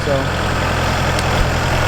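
A Kubota MX5200 tractor idles on a farm with a steady low diesel throb and even rhythmic pulsing, close and continuous, while someone briefly speaks over it.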